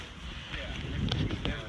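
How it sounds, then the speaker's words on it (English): Wind on the John Muir Trail near Mount Whitney buffets the microphone with a steady low rumble, gusting a little stronger midway, while a voice talks over it. "It's windy, it's cold."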